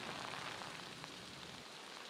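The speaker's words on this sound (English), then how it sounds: "Now the rain is coming down, and it's that wind-driven rain." Wind-driven rain from Hurricane Matthew lashes Daytona Beach, a steady, dense hiss of heavy rain beating on surfaces with gusty roar throughout, loud and unbroken, with no voices.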